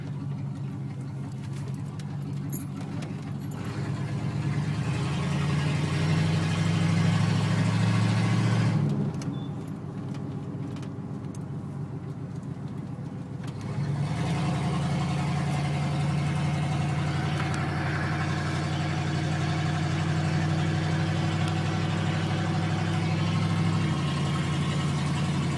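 Ford F100 pickup truck driving after a transmission rebuild, its steady mid-pitched engine droning and rising slightly as it pulls away, loud and close from inside the cab with no talk.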